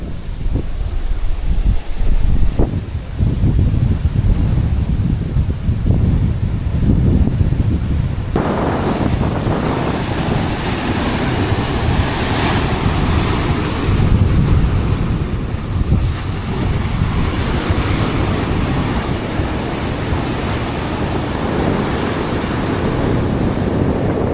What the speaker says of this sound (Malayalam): നമ്മുടെ കടൽ അടിച്ചു കയറുന്നുണ്ട് അതുപോലെ ചുറ്റിനുള്ള മരങ്ങളൊക്കെ കാറ്റത്ത് പാറി പറക്കും